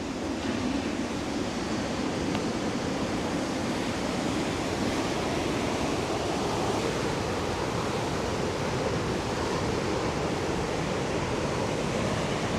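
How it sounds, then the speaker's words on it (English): Ocean waves roll onto the Galician coast at Baiona, a steady, broad wash of surf that fills the whole stretch with no breaks and no voices, dense and fairly loud, rather like continuous rushing noise. "Look at those waves coming in."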